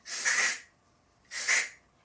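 Chi texture spray hisses onto hair in two short bursts about a second apart, close to the microphone with quiet between them.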